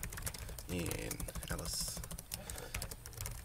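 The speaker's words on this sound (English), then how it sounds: "text box, draw it up here, type Alice" Fingers tap quickly on a computer keyboard, a close rattle of clustered keystrokes while laying out book pages, with someone talking over part of it.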